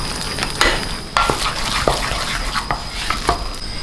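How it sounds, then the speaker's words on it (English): Flour being stirred into hot liquid in a pan for choux pastry dough, with repeated scraping and stirring strokes and clinks of the utensil against the pan, close and fairly loud. "add the flour all at once. And then stir, stir, stir as the flour absorbs the liquid"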